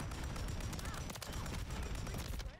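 Rapid automatic gunfire from a Modern Warfare III match roars in a dense, continuous burst, with a voice talking over parts of it.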